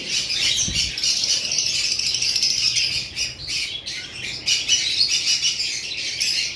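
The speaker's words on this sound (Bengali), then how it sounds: "এখানে রয়েছে দুই পেয়ার সম্পূর্ণ লোকাল পাখি" Small pet birds chirp and tweet continuously in dense, overlapping bursts, close by and fairly loud, with occasional squawks.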